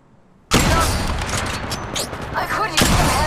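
Gunfire in Apex Legends Mobile breaks out suddenly after a quiet moment, a loud dense burst of rapid shots continuing with another strong volley near the end, close and harsh.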